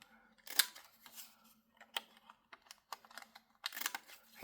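Scissors cutting paper for a craft project, a few sparse close snips and crisp rustles spaced out with short pauses, quiet and without speech.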